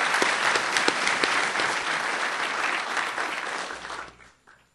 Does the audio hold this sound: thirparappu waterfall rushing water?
no